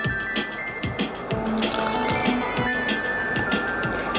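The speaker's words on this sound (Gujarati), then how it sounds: "પાણી એડ કરીશું." Water poured into gram-flour batter that already holds baking soda and hot oil, a close sloshing, squelchy trickle with rhythmic wet stirring splats under faint background tones, no talking.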